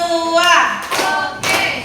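Classroom group clapping on a count, three sharp bursts of hands clapping together in quick sequence, close and loud, with a voice speaking between claps.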